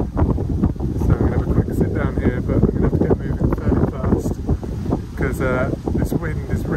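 Strong, cold wind buffets the microphone on Cleeve Hill in a steady roar, with a voice talking over it throughout.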